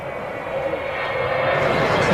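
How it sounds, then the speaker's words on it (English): Jet engines of an Avro Vulcan bomber, a steady loud roar that swells slightly and grows brighter toward the end, with no other sounds over it. "those engines have a sound that anyone who's ever heard a Vulcan before instantly recognizes"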